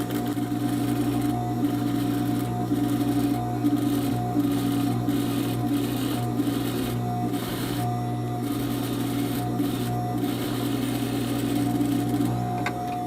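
A sewing machine runs steadily on a gathering seam for a straight skirt with a ruffle, a second line stitched about a presser-foot width from the first without backstitching, giving a continuous rhythmic motor whir with a faint clatter throughout.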